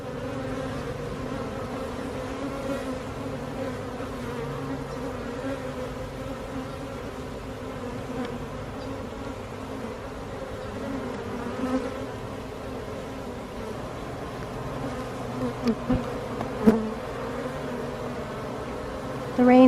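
A swarm of bees clustered on a branch during a rainy-day hive rescue, buzzing steadily and densely throughout at moderate closeness, with a few louder passes near the end and no talk.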